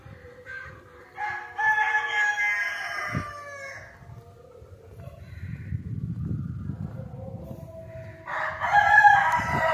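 Desi roosters at a farm house crow loudly in long cock-a-doodle-doo calls, one near the start and another toward the end. Softer clucking and a low rumble of farmyard activity fill the gap between the crows.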